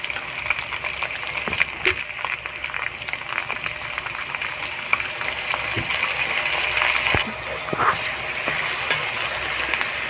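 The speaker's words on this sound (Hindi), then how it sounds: "अब इसमें हम शामिल कर देंगे थोड़ा सा पानी।" Water is added to onions and potatoes browning in a pan for aloo gobhi masala, raising a steady close sizzle and hiss with occasional clicks and stirring scrapes.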